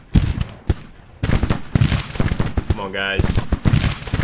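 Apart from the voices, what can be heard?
musket gunfire in the video game Grand Tactician: The Civil War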